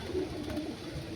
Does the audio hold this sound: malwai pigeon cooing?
yes